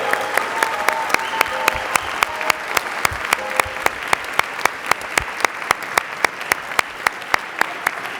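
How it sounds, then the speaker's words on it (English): An audience applauds a university chapel choir at an alumni awards ceremony, sustained steady clapping from a large crowd in a hall, with a few sharper individual claps standing out. "Can we give our Hendricks Chapel Choir one more round of applause as they go back to their seats?"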